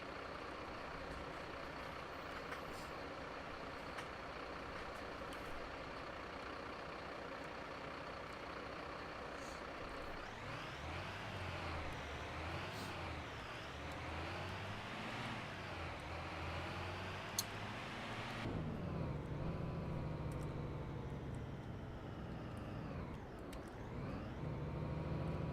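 A fire truck slowly parks in the Notruf 112 emergency game, with a steady low engine hum, shifting tones as it manoeuvres, and faint beeps and a brief air-brake hiss, all fairly quiet and continuous.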